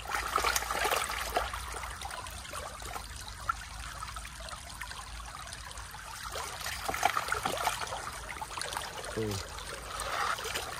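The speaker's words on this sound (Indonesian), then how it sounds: "Makanya kita harus goncang lebih keras ya agar material emas itu jatuh ke pusaran dulangnya." Water sloshes and swirls steadily in a gold pan being shaken hard at a river, a continuous close, moderately loud churning trickle with no talk over it.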